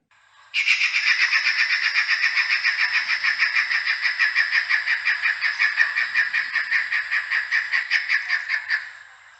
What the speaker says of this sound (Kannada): ನೀವೀಗ ಕೇಳಿದ್ದು ಮಿಂಚುಳ್ಳಿ ಪಕ್ಷಿಗಳಲ್ಲಿ ಹಿರಿದಾದಂತಹ ಹೆಮ್ಮಿಂಚುಳಿಯ ಧ್ವನಿ